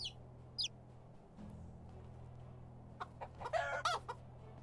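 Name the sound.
chicken clucking in video game Medieval Dynasty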